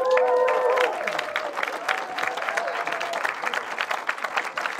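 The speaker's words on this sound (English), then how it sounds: "Big clap, everyone, big clap." A crowd at a film festival awards ceremony applauds a Best in Festival winner, dense sustained clapping with a few cheers and whoops early on, loud and continuous.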